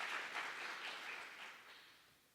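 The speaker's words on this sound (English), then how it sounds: "A round of applause for her." An audience at a family and youth event claps in a brief round of applause that is fairly faint and fades out over a couple of seconds.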